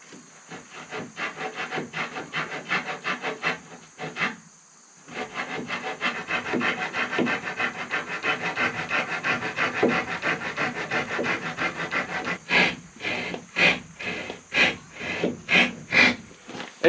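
Hand saw cutting hardwood pallet wood, a close rasping run of rapid back-and-forth strokes with a brief pause midway, then slower distinct strokes toward the end.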